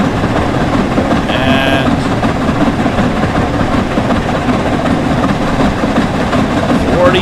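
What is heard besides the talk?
Flying Scotsman steam train running, from video game Train Sim World 4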